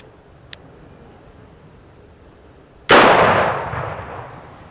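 A single loud shot from a S&W Governor revolver fired single action with number 4 shot, sharp and close, decaying over a couple of seconds after a quiet lead-in with one faint click.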